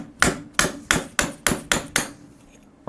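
Seven evenly spaced, ringing metallic hammer blows on a drift driving a case stud out of a Harley-Davidson Evolution engine case, loud and close with no voices.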